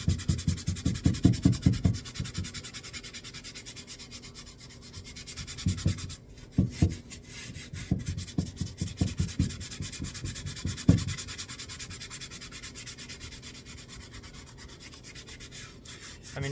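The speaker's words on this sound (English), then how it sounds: "I'm just going to not dilute it and give it a little scrub and see what it does." Hand scrubbing of an exhaust part on a 2012 Subaru Legacy GT with undiluted cleaner, heard as bursts of quick rhythmic brushing strokes with pauses between sets, close and moderately loud.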